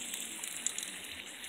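Water runs steadily over freshly mined opal rocks being washed, a faint, even rush with a few soft drips and clicks. No one speaks.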